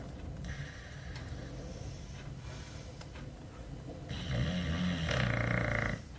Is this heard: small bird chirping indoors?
no